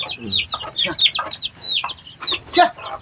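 Several native chickens cluck and squawk close by in short, overlapping bursts, loud and busy with brief pauses between calls.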